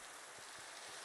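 Steady, faint rain patters continuously in a video game, a soft hiss of drops on surfaces with no voices.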